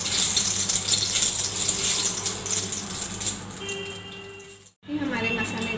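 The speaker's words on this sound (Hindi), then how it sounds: "उसमें हमने तेल डाल के गरम कर लिया। अब इसमें हम खड़े मसाले डालेंगे" Whole spices drop into hot oil in a kadai and sizzle with a steady bright hiss, close and fairly loud, with a brief scrape and clatter near the end.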